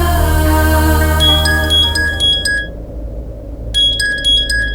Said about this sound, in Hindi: समीर का फोन मुझे क्यों आ रहा है?